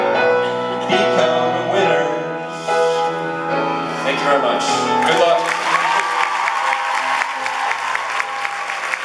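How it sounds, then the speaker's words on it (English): An audience at a school event bursts into warm applause after a teacher's speech, clapping steadily with scattered cheers and whoops, while a voice speaks over the start of the clapping. "a round of applause for Julia Sarah once more"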